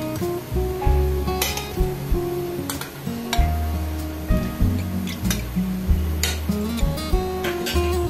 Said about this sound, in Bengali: এবার এখানে আমি পটল আর আলুগুলো যেগুলো আমি ভেজে রেখেছিলাম দিয়ে দিচ্ছি